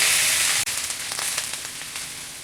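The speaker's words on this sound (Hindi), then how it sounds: "फ्लेम को हाई रख के चलाते हुए हम गाजर को भून लेंगे अच्छी तरह से।" Grated carrots fry in melted pure ghee over a high flame, a steady close sizzle broken by a brief stir, then continuing crackle and spatter.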